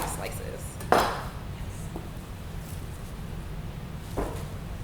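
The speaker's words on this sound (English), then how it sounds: "If you have any long stems like this one here, we're just going to cut those off." A knife cuts the long stems off kale leaves, making one sharp knock on the board, then a fainter cut a few seconds later over a low steady room hum.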